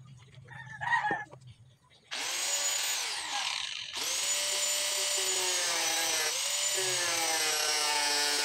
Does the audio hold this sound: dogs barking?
no